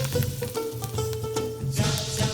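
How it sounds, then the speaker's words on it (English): Garlic, ginger and turmeric sizzle in hot oil in a frying pan, crackling close and steady, with a brief burst of stirring near the end. "In a frying pan, put some oil, and then when it is hot enough, put the garlic and ginger and some turmeric"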